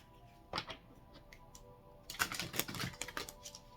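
A quiet, crisp riffling of tarot cards being shuffled, with a few soft taps first and then a rapid flurry of papery clicks.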